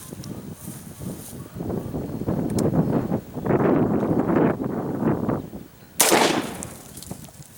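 A rifle shot fired into a 2x4 wooden board outdoors cracks out loud and sharp near the end, after several seconds of gusty wind rumble buffeting the microphone.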